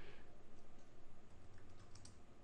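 Soft, fast keystrokes on a computer keyboard patter steadily throughout, quiet and fairly close, with no talking.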